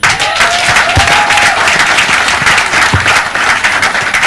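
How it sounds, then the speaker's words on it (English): A studio audience applauds on a Nigerian call-in broadcast programme: dense, steady clapping fills the whole stretch at close range, with a faint whistle-like tone briefly rising over it. "Make una clap for them now."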